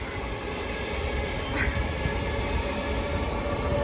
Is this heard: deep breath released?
no